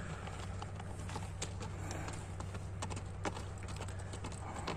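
A village horse from Jalal-Abad walks calmly, its hooves clip-clopping in a loose, uneven rhythm at close range over a steady low hum and background noise.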